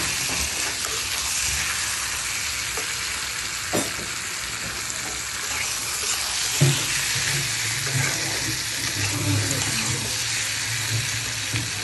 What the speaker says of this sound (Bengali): এবার মাছটা দিয়ে দিব, মাছটা কষিয়ে